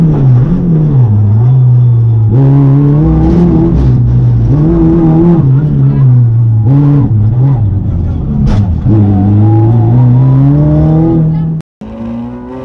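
Onboard Davide Baffa Scinnelli's Alfa Romeo race car at the start of a race at Varano de Melegari, the engine blares loudly and revs up and down through repeated gear changes, cutting out abruptly near the end.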